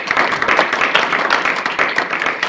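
Big round of applause for a gym demonstration of jumping lunges, dense steady clapping from a room of people, loud and close throughout without pause.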